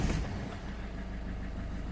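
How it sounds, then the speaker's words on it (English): A Peugeot 3008 engine idles steadily close by, a continuous low rumble with no talk over it. "if I start the engine"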